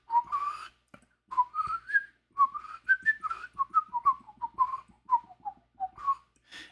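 A person whistles a melody with a trill, a series of short rising and falling phrases separated by brief pauses, close and clear with no talking.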